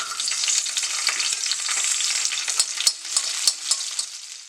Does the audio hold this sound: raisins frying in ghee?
yes